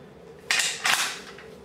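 A Ruger Gunsite Scout rifle is safety checked on a tabletop, giving two quick metallic clacks of the action in close succession, crisp and near against a quiet room.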